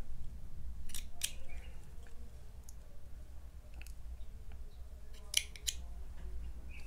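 Scissors trimming the yarn strands of a crochet or knit tassel, several crisp close snips spaced irregularly over a low steady background hum.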